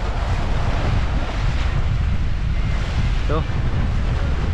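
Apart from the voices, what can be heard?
rough sea waves and strong current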